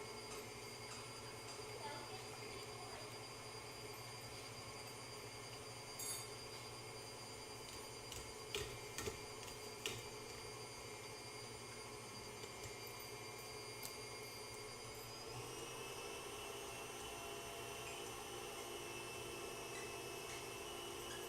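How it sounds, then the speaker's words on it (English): An electric mixer whips macaron batter toward soft peaks, a steady continuous whirring drone that stays even throughout, fairly faint, with a few brief knocks partway through. "Mixer's going on, people."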